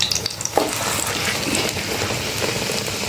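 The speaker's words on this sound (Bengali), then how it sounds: "এটাকে উল্টে নিচ্ছি হালকাভাবে। এবারে এই পিঠটাও আমি ভেজে নেব।" Egg and boiled potato dish frying in a pan, a steady, close sizzle and crackle of hot oil that holds without letup, with one brief clink near the start.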